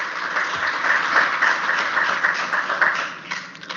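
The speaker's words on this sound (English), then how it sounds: "Let's give her a huge round of applause." A crowd at the Axiom Mission 4 launch event applauds steadily, a dense wash of clapping from many hands that thins out toward the end.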